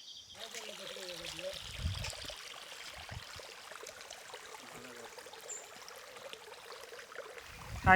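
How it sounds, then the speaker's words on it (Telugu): A cold-water stream runs down a hillside beside the stone steps climbing to Udayagiri Fort in Andhra Pradesh, a steady, faint trickle through the whole stretch with a few low knocks and a brief voice near the start. "ఇక్కడ చల్లని వాటర్ అయితే పైన నుంచి కిందకి పారుతూ ఉన్నాయి"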